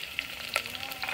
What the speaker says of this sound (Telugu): ఇప్పుడు కరివేపాకు వేస్తున్నా. పచ్చిమిరపకాయలు ఉల్లిగడ్డలు రెండు వేస్తున్నా.